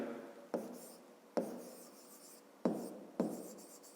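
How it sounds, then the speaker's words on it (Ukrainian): Pen writing out a fifth-grade math solution on paper: steady scratchy strokes in four separate bursts, each starting with a sharp tap and trailing off, close and alone with no talking. "Записуємо тоді."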